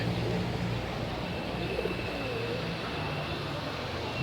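Wild pigeons bathing and drinking at water on a July day, soft cooing drifting through a steady outdoor wash of background noise, faint and low with no voices.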